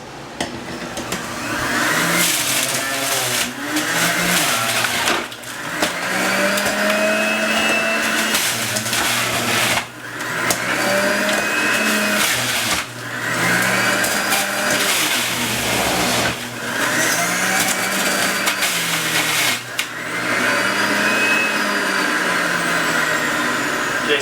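A Breville juicer grinds apples, ginger and carrots, a loud motor whine that surges and dips in repeated cycles roughly every five seconds as pieces are fed in.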